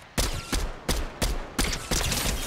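A rapid series of about six loud gunshots in a shooter video game, evenly spaced and punchy, close and dominating with no talk over them.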